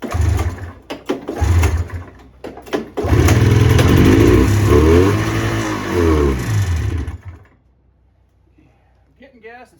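A John Deere snowmobile engine sputters through several short pulls in winter, then catches and runs with rising and falling revs for a few seconds before cutting out, near and moderately loud.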